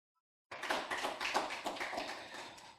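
An audience bursts into applause after a speech at a palliative care education event, dense hand clapping starting suddenly after silence and holding steady throughout.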